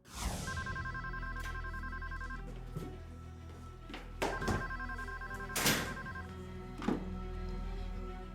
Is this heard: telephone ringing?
yes